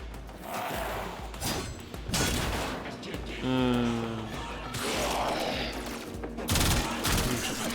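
Warframe video game combat with bursts of gunfire, repeated loud cracks and rattling weapon blasts mixed with mechanical clanks and a pitched tonal effect, filling the stretch without a break.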